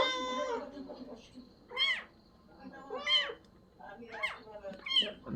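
A cat that has just given birth meows in short, separate, high calls, about five of them, close by, after a voice talks at the start.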